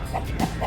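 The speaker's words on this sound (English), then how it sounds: "the chickens are concerned about Abby" Homestead chickens give a few quick, close clucks in a short burst, rising over a low background rumble.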